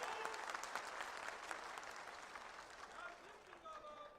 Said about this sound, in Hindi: तालियों की गड़गड़ाहट से इसका जवाब